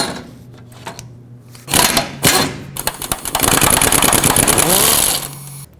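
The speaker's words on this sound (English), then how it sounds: "go ahead and remove the rest of the mounting bolts." A power tool spins out the front bumper support mounting bolts on a 2007 Chevy Silverado Classic, coming in loud, harsh whirring bursts with short gaps after a quieter start.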